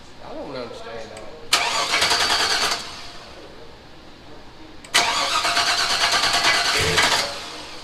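An LS-swapped Chevy S10 engine cranks and fires up twice, each start a loud burst that settles into a rough, steady idle before cutting off, with faint talk in the quieter gaps.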